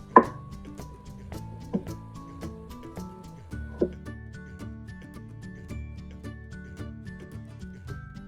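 A knife chops through a washed cucumber on a board, with a few sharp, separate cuts over soft background music.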